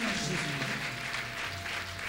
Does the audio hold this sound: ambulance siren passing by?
no